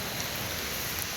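Steady hiss of heavy rain pouring during a flood-level thunderstorm at a home in Sivaganga, an even, dense wash of falling water with no break.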